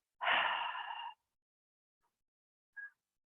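A single deep breath exhaled during qigong breathing practice, a close, breathy rush lasting about a second, followed by silence and a short faint puff of air.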